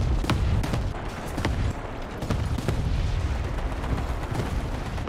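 Tank cannon and gunfire in War Thunder boom out in a series of sharp, heavy blasts over a low rumbling battlefield, with several loud bangs spread across the stretch and no talking.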